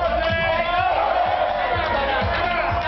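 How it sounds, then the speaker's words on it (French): A crowd cheers and shouts continuously for a competitor, forming a loud, steady wall of voices with rhythmic clapping thumps underneath. "On l'encourage très très fort."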